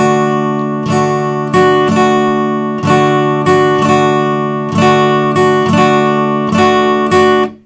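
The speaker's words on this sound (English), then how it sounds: "here's an example of the shuffle rhythm, which is used in many rock songs and the blues." Guitar strummed in a steady blues-rock shuffle rhythm, with clean sustained chords struck in uneven long-short pairs, played alone and close with no voices.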